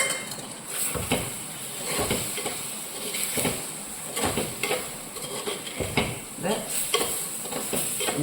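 Tomatoes are tipped into a hot frying pan and stirred, giving a steady sizzle broken by repeated scraping and clinking strokes of a spoon against the pan, close and fairly loud.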